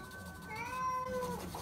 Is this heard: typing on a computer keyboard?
no